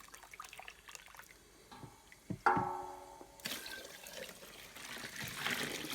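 Sparge water poured over the grain bed of a mash while brewing a Lemon Drop gold SMASH pale ale, a steady close splashing and trickling that swells into a louder, fuller pour after a brief clatter midway.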